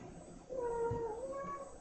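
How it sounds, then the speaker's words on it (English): A cat meows once, a drawn-out, wavering cry rising then falling, fairly close, against a quiet background hum. "He's under the table. He's meowing at himself."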